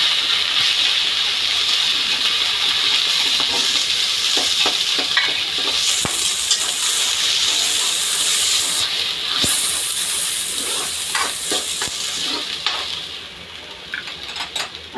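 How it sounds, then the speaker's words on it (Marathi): Drumstick pods being sautéed in hot oil in a pan for a spicy curry, a close, continuous sizzle with scattered scraping and clicking from stirring, easing off slightly near the end; no one speaks. "तर आता हे छान असं तेलावरती परतून घ्यायचं आहे"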